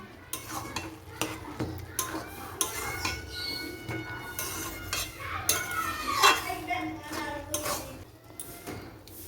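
A spoon scrapes and stirs minced chicken curry (kima torka) in a pan, with irregular metallic scrapes and clinks over a soft sizzle, close by.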